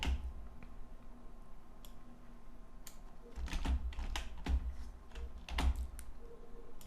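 Bursts of keystrokes rattle on a computer keyboard as keywords are entered into a web page editor, quiet pecking at first, then denser clusters of sharp clicks near the end.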